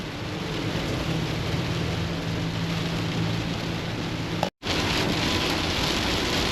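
Heavy rain drums on a cargo van while driving, a loud, dense wash of hammering drops and road noise that cuts out abruptly for a split second before resuming.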